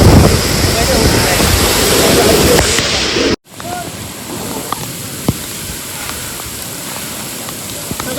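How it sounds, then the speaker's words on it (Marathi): A forest waterfall on the Andharban trail near Pune roars continuously with a dense, steady rush of falling water. The sound is close and loud, with a brief dropout midway and faint voices under the noise. "धबधबा आहे."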